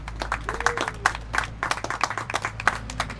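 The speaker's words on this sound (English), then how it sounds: "Give yourselves a round of applause for coming out." Scattered clapping from a small crowd gathered outside a Waffle House at a Libertarian campaign stop in Ohio, light and uneven with individual claps standing out, a faint voice or two underneath.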